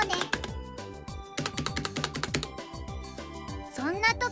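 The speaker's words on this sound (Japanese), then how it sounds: "まで響く打鍵音、気になりますよね。" Rapid clacking keystrokes on a Razer Huntsman V3 Pro gaming keyboard, close and crisp in irregular bursts, followed by a brief rising tonal sound at the end.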